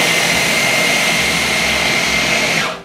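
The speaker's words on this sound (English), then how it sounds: "This is the Ninja blender." A Ninja blender runs at full speed in a home kitchen, a loud steady whirring drone that holds evenly for a few seconds before cutting off at the end.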